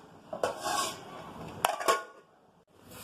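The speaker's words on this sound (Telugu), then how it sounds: "మూత పెట్టేద్దాం." A metal lid clinks onto a pot of cooking veg pulao in a home kitchen, with a few quick, close metallic knocks and rattles followed by quiet.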